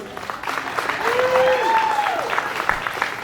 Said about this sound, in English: give another huge round of applause for all of my students tonight